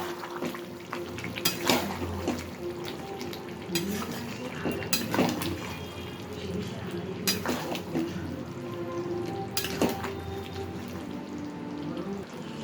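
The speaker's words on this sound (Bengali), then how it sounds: "ঢাকনা খুলে একটু নেড়ে নিয়ে আবার ঢাকনা দিয়ে দেবো" Chicken is stirred in a pot after the lid comes off, with repeated loud scraping and clanking of a spoon against metal over a low simmering sizzle.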